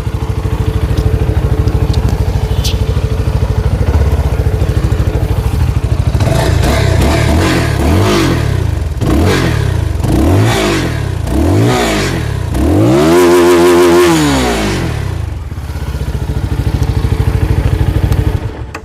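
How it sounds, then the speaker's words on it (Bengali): A motorcycle fitted with an underbelly exhaust idles with a crackling burble, then blips the throttle in a series of sharp revs rising and falling, with one longer, higher rev near the end, close and loud. "এটা আন্ডারবেলি এক্সস্ট হওয়ার কারণে সাউন্ডটা একটু বেশি সুন্দর"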